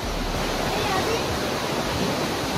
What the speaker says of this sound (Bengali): জলের স্রোত দেখুন